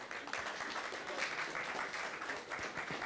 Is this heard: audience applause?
yes